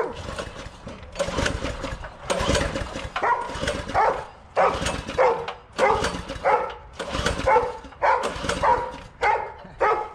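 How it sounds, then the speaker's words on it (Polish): Dog barking in repeated bursts, close and loud, during a forest outing with a forestry tractor, with short pauses between the barks. "Po co tak szczekasz?"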